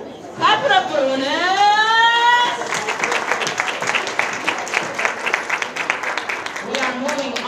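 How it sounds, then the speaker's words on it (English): Applause from the audience at a summer jobs program awards ceremony, a loud burst of clapping after a voice, then continuing claps mixed with crowd chatter and voices through the rest. "Clap it up, Luna."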